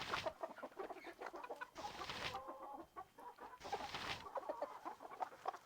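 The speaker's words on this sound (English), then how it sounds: "Oh, here's all the chickens." Chickens cluck in a Baldur's Gate II game scene, several short bursts of clucking and squawks repeating across the few seconds, fairly close and alone without talk.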